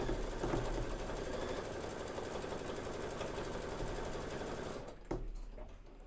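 An embroidery machine stitches out a quilting design with a continuous, even mechanical hum that drops off near the end, with no talking.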